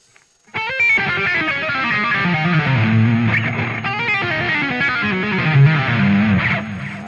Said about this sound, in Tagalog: Pero pag nilagyan ko ng distortion